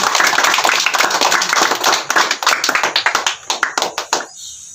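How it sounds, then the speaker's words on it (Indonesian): A classroom group claps for a presenting team in a large Sunday-school guidance lesson, dense clapping at first that thins into scattered, separate claps before stopping. "Berikan tepuk tangan untuk kelompok 3"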